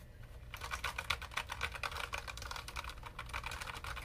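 Steady typing on a Logitech MX Mechanical tactile keyboard, a fast, even run of soft, muted keystrokes close to the mic, with no talk.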